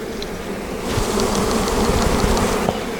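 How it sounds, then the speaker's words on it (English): A dense, steady buzz of many honey bees flying close around an open hive just after a mated queen is installed, a continuous loud drone with no talking. "They're all old bees."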